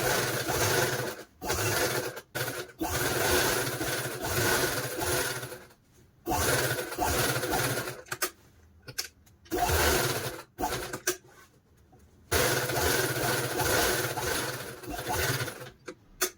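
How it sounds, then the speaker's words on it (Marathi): A sewing machine runs in long loud bursts, stitching fabric for a puja seat cover, with brief pauses between runs and no talking. "याच्यावर ही शिलाई मारणार आहोत."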